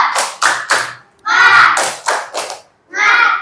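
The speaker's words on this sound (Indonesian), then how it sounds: "Lebih semangat lagi, tepuk semangat" A classroom group claps together in a rhythmic spirit clap, short bursts of clapping in a patterned beat mixed with children's chanting voices, close and lively.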